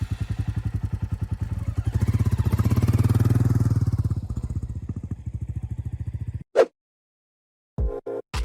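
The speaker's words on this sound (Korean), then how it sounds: "오늘의 모터사이클은 로얄 엔필드 클래식 350입니다." A Royal Enfield Classic 350 thumps close by with a rapid, even single-cylinder beat that swells as the engine revs and then settles. The engine cuts off abruptly, followed by a few brief knocks and clatters in near silence.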